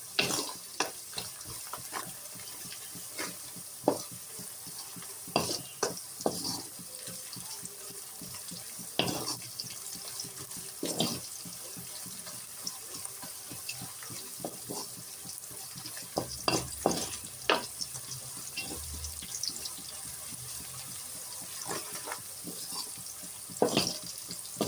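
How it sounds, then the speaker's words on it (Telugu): Salted onions for egg rice fry and are stirred in a pan: a faint, hissing sizzle with scattered scrapes and knocks of the spoon, fairly quiet throughout. "ఇలా ఆనియన్స్ అయితే ఫ్రై అయిన తర్వాత"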